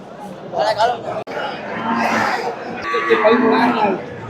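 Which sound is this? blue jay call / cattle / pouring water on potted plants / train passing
cattle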